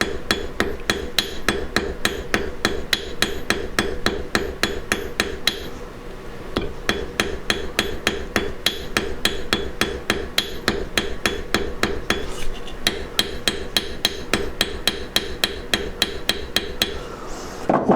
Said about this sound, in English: Planish the hammer marks out, make it smooth.